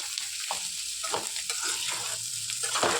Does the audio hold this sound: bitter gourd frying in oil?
yes